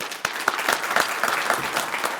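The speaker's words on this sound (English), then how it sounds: "Let's give her a warm round of applause." Warm audience applause for a chamber of commerce president at a Pasco Chamber of Commerce event, dense steady clapping from a nearby crowd throughout the short stretch.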